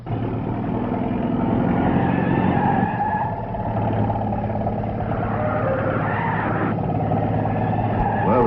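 A truck skids loudly on a road, a sustained rough engine roar and tire noise lasting several seconds with no pause.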